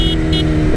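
A motorcycle with a newly changed final-drive gearing revs loudly and close up on a night ride, its engine holding a strong, steady droning tone for a short moment.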